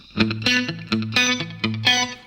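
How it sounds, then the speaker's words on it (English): Electric guitar phrases with a swirling flanger effect and a short slapback delay trailing each note, compressed, played in repeated rhythmic bursts, clear and upfront. "I think he's just using a flanger, still with a compressor, and I think he's got a little bit of a slap back delay on it"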